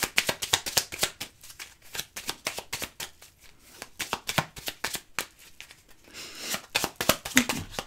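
Tarot cards being shuffled for a reading, a rapid run of crisp riffling flicks close up, steady throughout with a softer rustle near the end.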